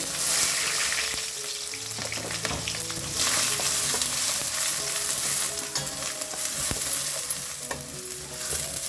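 Continuous sizzling of finely chopped onions frying in oil in a heavy-bottomed pot, with occasional stirring clinks and scrapes of a spoon; no talking.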